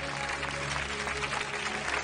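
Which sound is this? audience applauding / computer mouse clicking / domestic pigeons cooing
audience applauding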